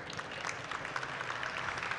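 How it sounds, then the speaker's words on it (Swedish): Audience in a trade-fair TV studio applauds a champion cross-country skier with steady, sustained clapping that fills the whole moment at a moderate, even level. "Jag tycker vi ger honom en applåd för det."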